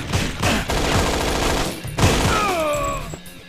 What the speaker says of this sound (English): You guys shooting at me from above is really nice.